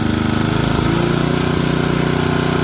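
Vintage MTD ride-on mower engine running with the choke on, a loud, close, steady pulsing drone with an even rapid firing rhythm and slight wavering in pitch.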